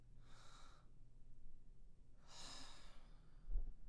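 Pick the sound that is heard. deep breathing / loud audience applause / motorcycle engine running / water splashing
deep breathing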